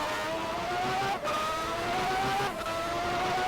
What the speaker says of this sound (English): Hear that beautiful sound with that engine. Forget what engine it is actually. I believe it's a Ferrari V12.